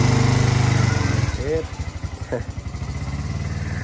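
A loud motorcycle engine running nearby, a throbbing rumble that briefly drops and sputters before settling back into a steady idle.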